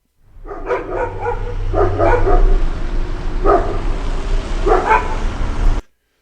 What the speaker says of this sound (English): there's a little bit of dog barking, neighborhood, motors running